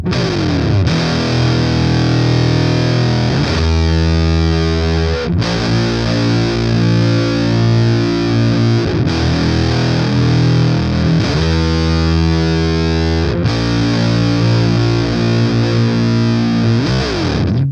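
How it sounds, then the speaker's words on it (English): Loud, gritty electric guitar chords through fuzz distortion, played in slow heavy strums with sustained ringing notes and no voices. "it's not a particularly clean distortion"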